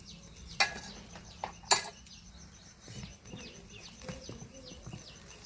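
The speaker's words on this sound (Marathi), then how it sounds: "तर छान पराठा टाकला बघा तव्यावर आणि वरतून मस्त तूप लावते त्याला" Aloo paratha brushed with ghee frying on a griddle over a wood-fired chulha, giving a faint, low sizzle with a couple of sharp taps and soft scraping sounds.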